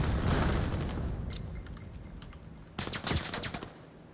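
Rapid bursts of gunfire in the VAIL virtual reality shooter, a loud rattling volley at the start, then scattered single shots and a second sharp burst near the end.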